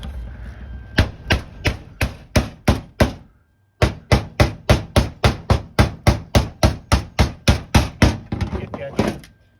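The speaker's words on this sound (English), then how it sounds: "then gap will close up when I hammer it down" Rapid, evenly spaced hammer blows strike sheet metal on a 1971 Cutlass floor replacement, about twenty-five sharp hits in a steady rhythm with one short pause, loud and close.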